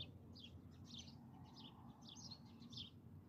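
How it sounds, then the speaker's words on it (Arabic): Small birds chirp in quick, repeated high twitters, faint and distant over a low steady background hum, with no talking. "الطيور تغرد"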